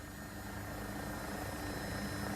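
An AW109SP Agusta helicopter in the X-Trident flight simulator add-on gives a steady, droning engine and rotor hum at constant volume, with no talk.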